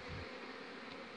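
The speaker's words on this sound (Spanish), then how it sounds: "un día de sol y las abejas siguen en buena actividad" A steady, dense buzzing of many honeybees at hives on a sunny day fills the air outdoors, continuous and moderately loud with no talking.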